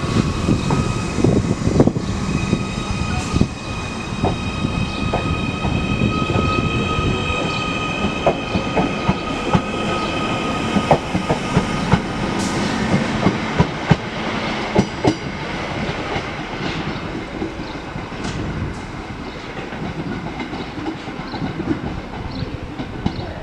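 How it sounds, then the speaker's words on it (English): A Merseyrail electric train pulls away from Chester station, bound for Liverpool Central. A loud, steady rumble carries rail clatter and wheel noise, with a few faint squeals and sharp clicks along the way. Nobody speaks. "Departing now is B1101, Merseyrail service to Liverpool Central, 77045."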